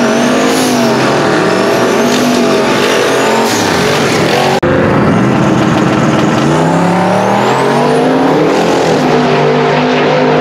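A turbocharged LS-swapped Mercury Zephyr roars loudly with gliding pitch rises and falls as it revs and accelerates, turbo whistle sweeping high above the engine, continuous and close with no talking.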